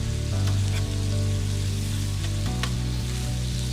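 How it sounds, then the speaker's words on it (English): Ginger and garlic frying in a small splash of oil in a pan: a steady, close crackling sizzle under a constant low hum, holding even from start to finish, with no voices. "Just enough so we can start cooking the ginger and the garlic"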